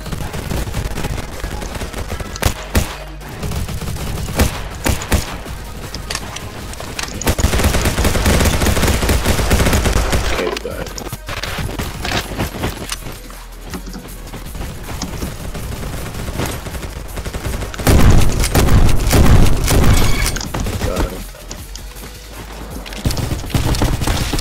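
Gunfire from a shotgun and a Tec-9 semi-automatic pistol in a Roblox game, loud bursts of repeated shots spread across the stretch with denser volleys in places and brief quieter gaps between them.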